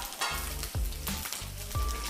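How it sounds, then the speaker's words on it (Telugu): Garlic fries in hot oil with a bright crackling sizzle, broken by several low scraping thuds as it is stirred in the pan, close and fairly quiet. "ఇప్పుడు ముందు కొంచెం ఆయిల్ పెట్టాను, ఇందులో వెల్లుల్లిపాయలు వేయించేద్దాం"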